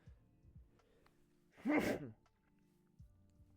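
A single loud allergy sneeze bursts out midway, sharp and close, with quiet room sound and faint murmurs before and after.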